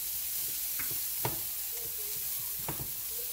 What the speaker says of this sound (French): s'il vous plaît, laissez l'ail pendant quand même 1 minute cuire pour que vous sentez l'arôme